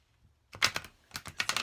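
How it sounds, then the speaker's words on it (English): A deck of playing cards being shuffled vertically, a few quick crisp riffling bursts after a short silence, close up and fairly quiet, with nobody speaking. "So let's shuffle horizontally, or I'm sorry, vertically."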